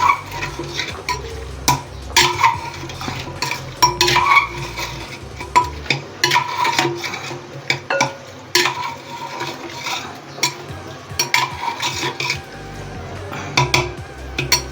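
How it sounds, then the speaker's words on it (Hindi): Masala being stirred and mixed into mutton in a handi: steady scraping and clanking strokes of a spoon against the pot, loud and close, with faint sizzling beneath and no talking. "अब इसे अच्छी तरह से मिक्स करें। इस तरह से, ताकि सारा मसाला इसमें मिक्स हो जाए।"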